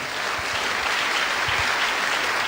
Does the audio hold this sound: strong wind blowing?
no